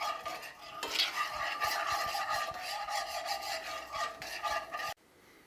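Butter and fresh thyme stirred around a cast iron skillet after bone-in pork chops, a steady scraping and rubbing with light utensil clinks running for about five seconds before cutting off abruptly.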